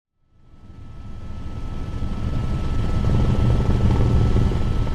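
Low-flying helicopter passing over trees: a broad rotor and engine roar that swells from silence and stays loud and close, with no voices.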